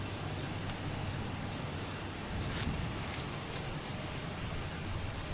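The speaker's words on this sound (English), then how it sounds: "I believe we have a JetBlue A320 taking off heading to" A JetBlue Airbus A320 taking off from Boston Logan Airport toward Sarasota makes a steady, distant jet roar with a constant broadband wash and low rumble, with no talk over it.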